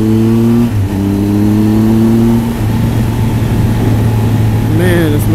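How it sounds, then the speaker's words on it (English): Engine of a 2017 Triumph Tiger Explorer motorcycle on a street ride, a steady loud drone with shifting harmonic pitch as it accelerates, continuous throughout with wind rush and some talk mixed in. "this motorcycle is fluid and fast and smooth."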